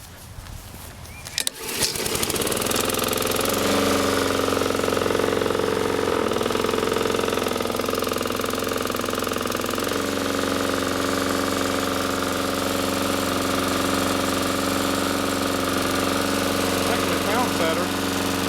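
A Honda GCV160 engine on a Troy Bilt TB542 lawn mower catches after a brief pull and settles into a steady, loud, close idle with a constant droning hum, with a voice speaking over it.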